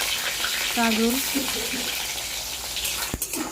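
Kakrol (spiny gourd) frying in hot oil for a Bengali mixed-vegetable dish, a steady loud sizzle throughout with a brief spoken word early on and a few clinks near the end.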